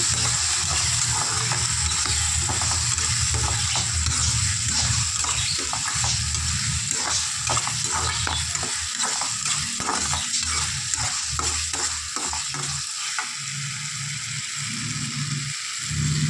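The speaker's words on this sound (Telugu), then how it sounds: "మొత్తం కలుపుకోవాలి. ఇప్పుడు కారం మొత్తం దానికి పట్టేలాగా." Guntur-style dried prawn and tomato curry being stirred in a hot pan, with a steady close sizzle and rhythmic scraping strokes of the spoon throughout, no talking.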